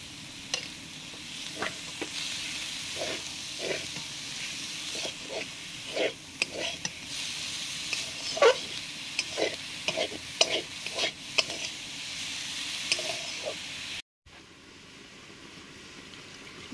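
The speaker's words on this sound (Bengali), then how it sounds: "মশলাগুলো কষা হয়ে গেছে, এবার এই গ্রেট করা ফুলকপিটা দিয়ে দিচ্ছি" Grated cauliflower fries in a spiced masala in a pan, giving a steady sizzle with repeated scraping stirs of a spoon, close up and without talk, before the sound drops off abruptly.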